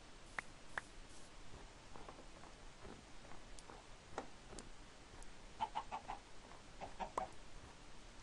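Chickens cluck in Minecraft, faint scattered clucks and short calls over a quiet background, spaced irregularly with a few brighter clicks.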